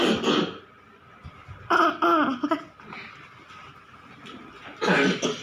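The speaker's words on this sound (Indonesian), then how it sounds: "Dan batuk." A child coughs in short bursts indoors, with loud broadband hacks at the start, in the middle and at the end, separated by quieter room noise and faint voices.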